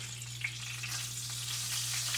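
Bacon and eggs fry in a pan with a steady, close hiss and crackle, small pops breaking through the continuous sizzle over a low constant hum.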